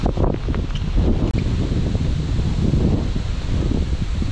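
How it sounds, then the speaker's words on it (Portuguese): Strong wind gusts across a hilltop on Pico do Monte Claro near Bento Gonçalves, a steady loud roar buffeting the microphone with no one speaking. "E agora começou o vento, né?"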